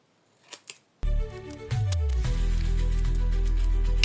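Scissors make two quick snips cutting small pieces during a drawing-framing job, then a louder sustained mechanical rumble with a falling whine takes over, close by.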